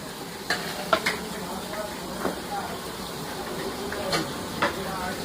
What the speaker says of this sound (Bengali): পাবদা মাছ ফ্রাই করা হচ্ছে, দেখুন পাবদা মাছ কেমন ফাটে তেলে দিলে